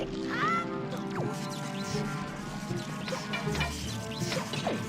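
Bird calls in The Wind Waker video game: a string of quacking, honking squawks and chirps repeating over several seconds against game background sound, loud and close.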